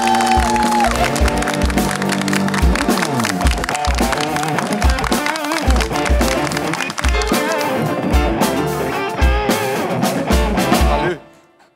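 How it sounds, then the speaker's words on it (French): Studio audience greeting guest Nawaz Noorbux on a talk show, applause and cheers filling the room loudly with rhythmic clapping and music underneath, ending abruptly. "Tonnerre d'applaudissements pour Nawaz Nourbex!"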